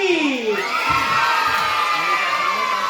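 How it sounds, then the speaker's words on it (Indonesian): A group of new students at an Islamic boarding school shout and cheer together in a loud, sustained burst of excited yelling. "Tepuk tangan yang meriah sambil teriak, yeay."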